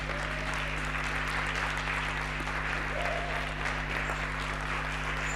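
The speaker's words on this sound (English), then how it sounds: "A round of applause, a round of applause." Sustained applause from an audience at an alumni network gathering of emerging public leaders, a steady dense wash of many hands clapping at moderate distance, continuous throughout with no talk over it.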